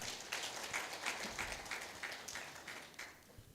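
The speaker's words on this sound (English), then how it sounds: "Can we give him another round of applause?" An audience at a Uganda diaspora convention gives a round of applause, heard as a quiet, fairly distant patter of clapping hands that keeps a loose rhythm and fades slightly toward the end.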